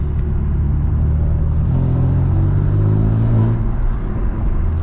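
A 560 bhp BMW M3 cruises along in normal driving, its engine a steady low rumble and drone heard from inside the cabin, with a slight rise in pitch as it gently accelerates.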